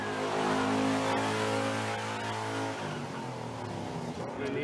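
A very expensive car, worth about $2 million, being shifted a few feet on a film set: its engine runs close and steady, then the tone drops and settles to a lower rumble.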